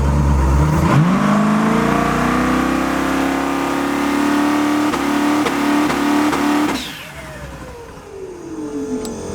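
An eight-turbo Ford Mustang accelerates hard in first gear. Its loud engine note climbs steadily in pitch up close, then drops sharply and settles back toward a lower rumble.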